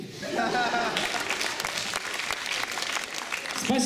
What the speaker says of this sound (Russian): Спасибо всем командам, ваши аплодисменты.